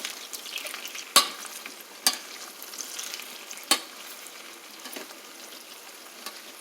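Sweet onions for Philly steak sizzle in a pan with a soft, steady frying crackle, broken by three or four sharp clicks of a utensil stirring against the pan, close up and without speech.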